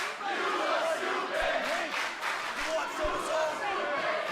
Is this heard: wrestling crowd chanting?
yes